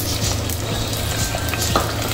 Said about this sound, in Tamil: பூண்டு பொரிஞ்சிக்கிட்டு இப்போ நம்ம வெங்காயத்தையும் சேர்த்துருவோம்